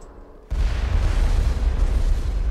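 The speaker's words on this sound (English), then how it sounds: "You hear those explosions?" Explosions in the video game Mass Effect: a sudden loud low boom sets in after a quiet moment and rolls on as a sustained heavy rumble.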